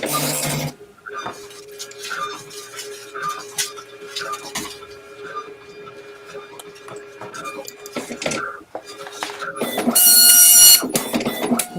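A printer works through a job with whirring feed motors, clicks and shuttling rhythmic passes, near and moderately loud, with a burst of bright high-pitched noise near the end.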